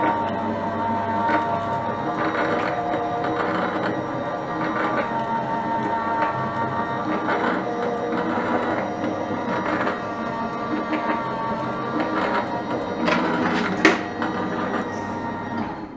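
A Crafter's Companion Gemini die-cutting machine runs during a first test after unboxing. Its motor hums steadily, close by, with a faint rhythmic pulsing throughout and a slightly louder knock near the end, and no one talks.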